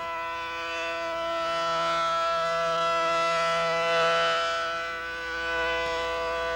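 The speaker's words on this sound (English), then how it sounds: "The outdoor warning sirens will alert the public to tune in to NOAA Weather Radio." An outdoor warning siren for severe weather alerts wails continuously with a steady, slightly swelling tone, loud and unaccompanied by any voices.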